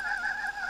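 A bird squawks in the video game Trollface Quest 2, a steady, nasal, honking call held for under a second with no talk over it.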